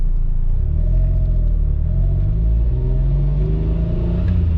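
An Autozam AZ-1 with a JWorks exhaust holds a steady, loud, deep drone at about 3,000 rpm, heard from inside the car with a slight rise in pitch.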